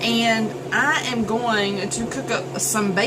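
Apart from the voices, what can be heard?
No everyday noise stands out behind the speech.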